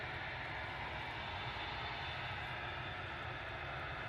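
An Emirates Airbus A380-800 taking off at Manchester Airport makes a steady, broad jet engine roar that holds constant and moderately distant throughout, with no voices.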